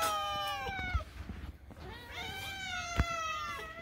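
A tiny kitten meows repeatedly in close, high, wavering cries, several calls overlapping with light handling noises and no talking.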